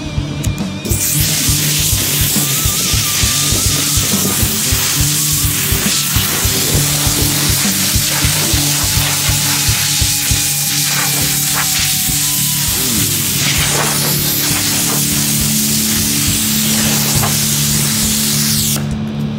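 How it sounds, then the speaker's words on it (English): Compressed air blowing the dust off a sanded car hood outdoors, a loud continuous rushing hiss that lasts throughout with slight fluctuations as the nozzle moves. "we brought the hood outside, we're going to blow it off and prime it."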